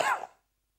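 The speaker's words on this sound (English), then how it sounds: "I've only got a symptom of coughing" One short, dry cough, close and fairly loud, fading quickly into silence.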